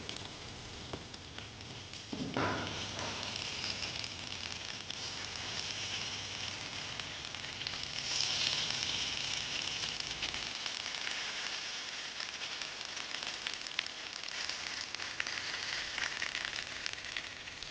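Fish wrapped in banana leaf cooking on a hot tawa, a continuous close crackling sizzle with a sharp hiss as something touches the pan early on, then steady frying throughout.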